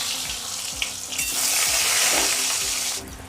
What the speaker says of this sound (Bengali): কলাগুলো তুলে নেওয়ার পর ওই তেলের মধ্যে আমি ডিম দুটোকেও ভেজে নেব